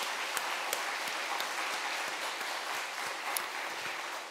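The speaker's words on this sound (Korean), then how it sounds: "크게 한번 다시 한번 박수하시겠습니다." A church congregation applauds the choir, conductor and accompanist at an Easter Sunday service: steady, dense clapping from many hands fills the room throughout, with no voices over it.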